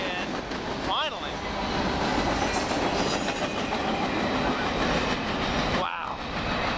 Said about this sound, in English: What a train.